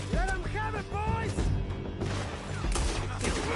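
Gunfire in a Red Dead Redemption II town shootout: dense overlapping shots and thuds under loud shouting voices and game music.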